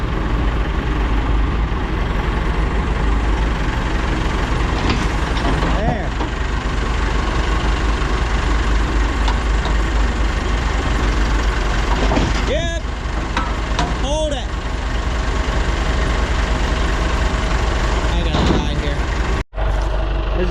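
A John Deere 4370 tractor engine runs steadily under load as it pulls forward while feed is ground in the rain, its low drone continuous throughout, with voices talking over it.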